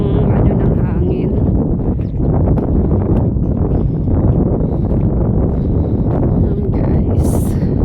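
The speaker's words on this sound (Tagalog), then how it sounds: "Rinig na rinig yung ng hangin." Strong wind blows at a seashore fish pond, buffeting the microphone with a loud, constant low rumble from start to end.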